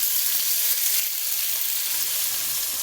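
Beef pieces searing in hot oil in a pan, a steady close sizzle with a few faint clicks and stirring sounds, no voices.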